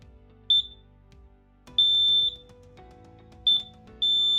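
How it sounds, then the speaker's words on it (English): A LINKD interlinked smoke alarm being reset gives high-pitched electronic beeps, a short chirp and then longer tones in an uneven pattern, close and clear with no talk. "We then reset another alarm."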